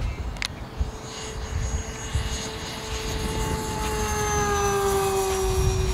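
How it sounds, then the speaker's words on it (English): Avios Zazzy 1300mm RC sports plane on 4S power making a fast pass at full throttle, its electric motor whine rising and growing louder as it approaches, steady and continuous with a slight pitch shift. "come in for a fast pass, show you how she gets along on full throttle, 4S, plenty of power"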